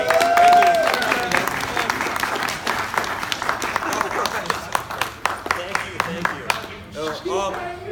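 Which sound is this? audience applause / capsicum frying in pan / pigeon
audience applause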